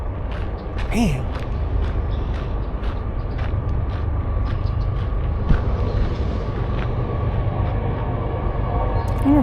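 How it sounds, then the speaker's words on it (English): A freight train rolls past near the Montour Trail, a continuous low rumble with steady rattling and creaking wheels, heard from a short distance. "You hearing another train?"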